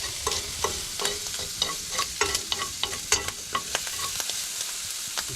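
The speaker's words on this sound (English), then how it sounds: "we're just cooking up the bacon now" Bacon sizzles steadily in a pan at a free bush camp near Onslow, with a rhythmic run of scraping stirs and clinks as the strips are pushed around the pan.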